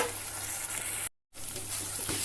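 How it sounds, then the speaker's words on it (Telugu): Tomato curry for a brinjal and dried-fish stew sizzles steadily in a pan, with a continuous close hiss and crackle that drops out for a brief moment midway before resuming. "ఇది కూడా కొంచెం బాగా వేగనిద్దాము"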